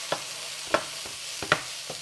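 Food frying in a pan over high heat for a vegan dish, a soft steady sizzle broken by a few sharp crackles and stirring scrapes at irregular intervals, fairly quiet and close.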